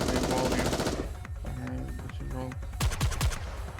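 Game sound effect of a character firing her gun, a fast automatic burst at first, then scattered sharp shots with sweeping effect tones, loud and close.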